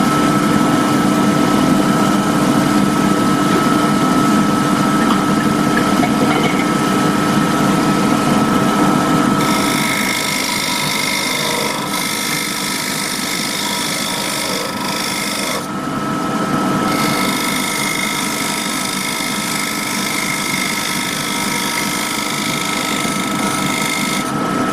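A carbon steel roughing gouge cuts into spinning wood on a lathe while turning the base of a table lamp, a steady loud scraping whir with a continuous motor hum throughout and a brief interruption near the end.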